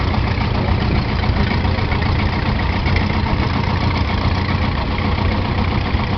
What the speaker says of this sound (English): Nice little twin seat, 30G David Brown.